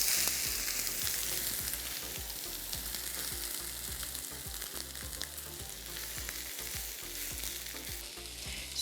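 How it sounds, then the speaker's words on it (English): White onions fry in a hot oiled pan, giving a continuous bright sizzle with crackle and small pops. Low rhythmic thumps run underneath the whole time, and no one speaks. "Now we're going to add white onions."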